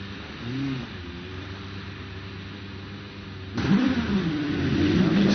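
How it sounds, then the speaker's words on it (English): A Gould GR59J hillclimb race car sits at the start line of a 2022 British Hillclimb Championship run-off, its engine burbling and blipping, then rising to a louder, harder rev partway through. "To the line now, Matt Ryder in the Gould GR59J."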